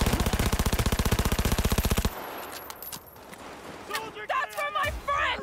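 Automatic gunfire in Cyberpunk 2077 during a shootout: a loud, rapid, even burst that lasts about two seconds and then stops. Game voices and combat noise follow.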